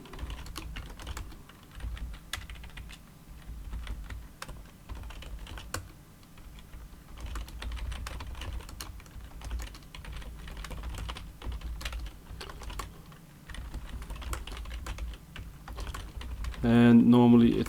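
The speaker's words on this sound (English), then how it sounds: "It's just a lot of typing that we have to do." Steady computer keyboard typing runs throughout while entering BGP configuration in a GNS3 lab, with quick clustered keystrokes and short pauses, close and fairly quiet, then a louder burst near the end.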